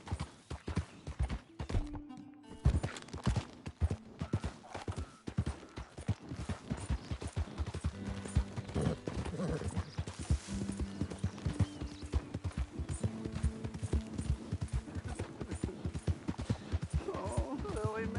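Steady clip-clop of horse hooves during a ride in Red Dead Redemption 2, a continuous rhythmic gait running the whole way under intermittent talking and occasional voices.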